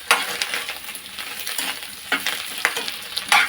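Chicken stir-frying in a pan for chicken fried rice: continuous close sizzling with repeated scraping strokes of a spatula against the pan, no voices.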